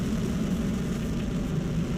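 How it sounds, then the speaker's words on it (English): A Long March 2F rocket lifts off carrying Shenzhou 16, a dense, constant low roar with crackling rumble, loud and unbroken throughout. "Lift off."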